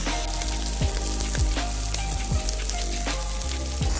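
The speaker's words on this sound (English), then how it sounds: "These are thin steaks, so they're gonna cook pretty fast, but at least 2 minutes because you wanna get that crust on that steak." Thin steaks sear on a 17-inch Blackstone griddle at a camping cook: a continuous close sizzle with scattered crackles and pops over a low steady hum.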